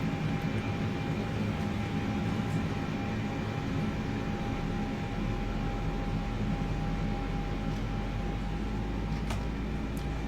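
Airbus A321LR jet engines spooling on a takeoff roll from runway 02 in a flight simulation, a steady broadband roar with faint whining tones, a deeper low rumble building partway through, no talk.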